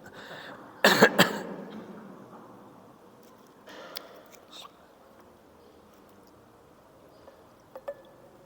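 A sharp cough bursts out near the start, followed by quieter throat sounds and faint breathy noise in a hushed room.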